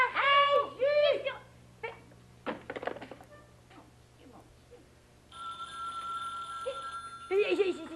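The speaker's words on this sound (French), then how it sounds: "C'est le téléphone à moi, Creusot." A telephone rings with a steady electronic tone in the latter half of a 1971 Québécois children's TV show scene, preceded by animated voices and brief sounds; the ring is moderately loud and continuous.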